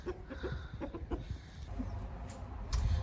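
Chickens cluck in short, scattered bursts close by, amid rustling and handling noises, with no clear talk.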